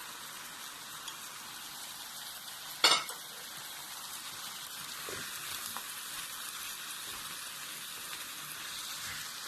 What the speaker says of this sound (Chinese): 然后把魔芋丝也倒到锅里